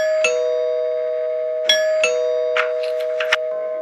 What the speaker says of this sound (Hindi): कुछ ही देर में बाहर की घंटी दोबारा बजी।